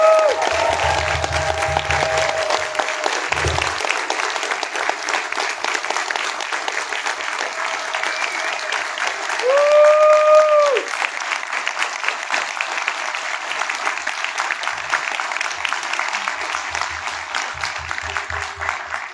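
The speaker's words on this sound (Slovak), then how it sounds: "Poprosím veľký potlesk pre Bírka." An audience at a concert claps in steady, dense applause that swells briefly near the middle and continues throughout, with a voice briefly heard over it at the start and again toward the end.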